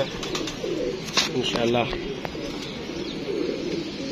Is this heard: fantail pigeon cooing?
yes